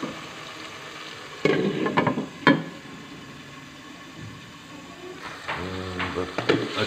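Spoon scraping and mixing a thick masala paste with garam masala and black pepper in a karahi, with a few sharp clanks against the pan and soft scraping, while a person talks over it.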